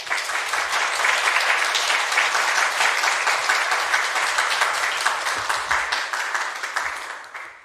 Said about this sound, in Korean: 우리 목사님 나오실 때 우리 뜨거운 박수로 환영하십니다